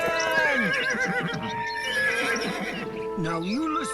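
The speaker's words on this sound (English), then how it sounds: "on her horse, Nightshade." A horse named Nightshade neighs and whinnies in repeated rising and falling calls, loud and close, over a dense background bed.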